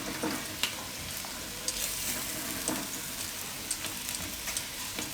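Dum aloo potatoes cook in oil in a pan over a gas flame, giving a steady close sizzle and fry with a few soft stirring scrapes and clicks throughout.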